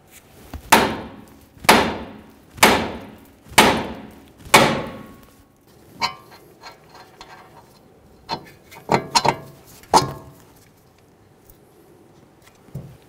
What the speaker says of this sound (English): I'll just use my hammer here, being careful not to damage the tie rod end in any way.